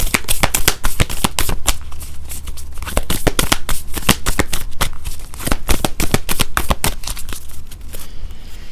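Deck of tarot-style reading cards shuffled steadily and close up, a dense run of crisp riffling slaps and flutters lasting several seconds with no talk.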